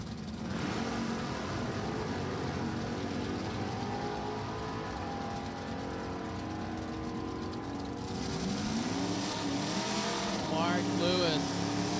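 Drag racing cars, a Nova and a B-stock automatic 350 small block Camaro, run at Virginia Motorsports Park, a steady distant engine roar with a rising tyre-squeal whine near the end, under a commentator's voice.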